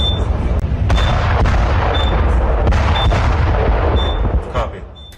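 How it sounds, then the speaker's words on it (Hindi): A Tesla Cybertruck explodes outside Trump Tower, picked up on a CCTV camera as a loud, sustained roaring blast with sharp cracks and pops throughout, then fading near the end. "इसमें अचानक से एक धमाका होता और फिर इस ट्रक के परखच्चे उड़ जाते हैं"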